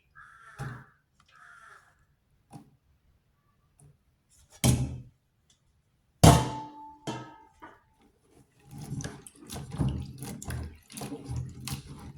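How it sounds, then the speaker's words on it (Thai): Water poured out into a kitchen sink while preparing vegetables: a couple of short splashing gushes, then a longer stretch of running, splattering water, close by in an otherwise quiet room. "เราก็ไปเทน้ำออกนะคะเพื่อน ๆ"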